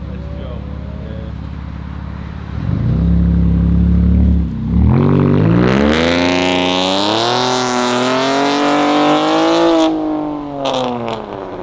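A 2020 Camaro RS V6 with straight pipes and the muffler and resonators deleted burbles at idle, then revs hard into a raspy, rising wail that holds for several seconds before dropping off sharply.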